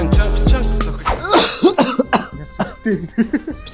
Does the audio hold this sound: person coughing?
yes